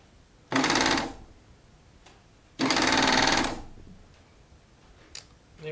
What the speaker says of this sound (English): Now I'm going to do a little sew off on this, though, to make sure it's forming a proper stitch.